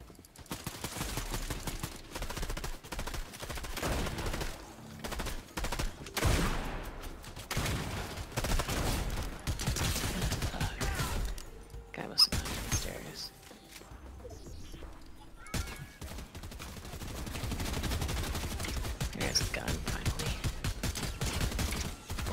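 Video game gunfire in an online shooter rattles in dense, continuous bursts for most of the stretch, with a brief lull in the middle, loud and up front.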